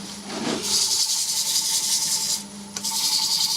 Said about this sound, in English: I've got the lathe on slow so I can get away with standing in front of it.